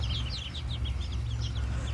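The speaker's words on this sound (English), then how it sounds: "That is a white rooster." A white rooster clucks in short, soft bursts, close by and fairly quiet, over a steady low rumble of background noise.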